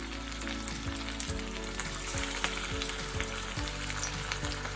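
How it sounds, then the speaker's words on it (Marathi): Green pea vadas deep-fry in hot oil over medium heat with a dense, constant bubbling sizzle and faint periodic clicks, heard close and alone. "आता हे आपल्याला तळून घ्यायचे"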